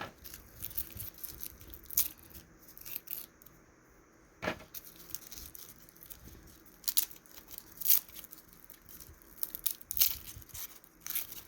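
Garlic bulbs being unwrapped and broken into cloves by hand, a quiet, irregular run of papery crackles, tearing and small crunches, close up, with no talking.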